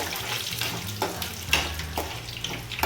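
Dry red chillies frying in a pan on the stove give off a soft, steady sizzle with a few light scraping stirs, quiet and close, with no talking.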